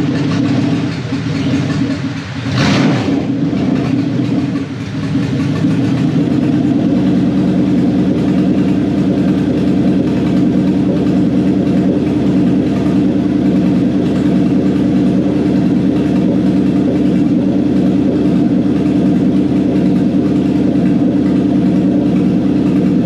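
A Toyota 1UZ V8 engine fitted in a Hiace van, running a Link ECU with coil-on-plug ignition, fires up for the first time. A brief cranking burst catches, and the engine settles into a loud, steady, low idle that carries on alone.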